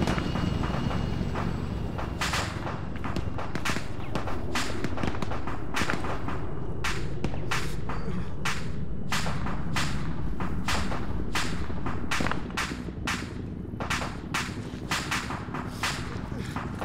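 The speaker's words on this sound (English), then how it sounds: "I'm hearing gunshots near us, but I don't see anybody" Gunfire in a military shooter video game, dense sharp shots cracking in rapid irregular bursts close by throughout, over a steady low rumble of battlefield ambience.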